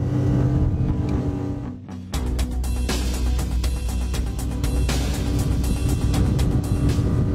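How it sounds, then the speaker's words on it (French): Ranieri Next 290 SH console motorboat with twin counter-rotating propellers accelerating at speed, a loud continuous engine roar with rushing water and wind, briefly dipping near two seconds before surging back steady and strong. "La poussée de ces doubles hélices contrarotatives se fait sentir. La coque gagne en vitesse."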